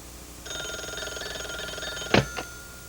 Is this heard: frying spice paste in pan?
no